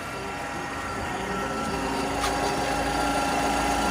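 A car engine idles steadily after an alternator bearing repair. The running is smooth and continuous at close range, with no sharp bearing noise standing out.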